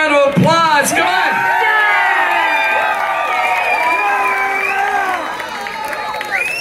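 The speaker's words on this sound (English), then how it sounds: "give them a warm round of applause, come on" A live concert crowd at a show in Salt Lake City erupts in loud cheering, whoops and shouts over applause, a dense, sustained roar close by.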